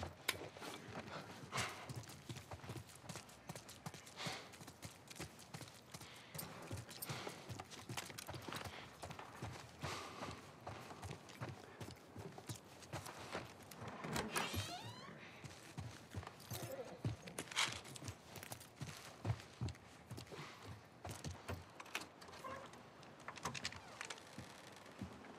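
Horses walk with clip-clopping hooves in The Last of Us Part 1, a steady run of hoof thuds and creaks heard throughout with no talking.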